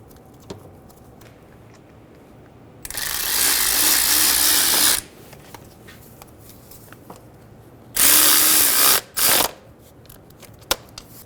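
Power tool driving a starter bolt on a 2011-2014 Hyundai Sonata, with two bursts of loud whirring, a long one and a shorter one followed by a quick blip, between quiet clicks and shop ambience.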